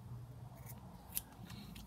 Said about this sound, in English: I've even got two pairs of scissors here